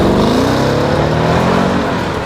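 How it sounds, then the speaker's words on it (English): The unmuffled supercharged V8 of a 2017 Jaguar XJR roars loudly and close up, a dense, throaty engine note that holds strong throughout. "because it is supercharged, that V8 is unmuffled and sounds an absolute treat"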